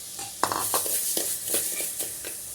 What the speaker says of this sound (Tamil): முதல்ல பாசிப்பயிரை ஒரு வடச்சட்டில் போட்டு நல்லா வறுத்துக்கலாம்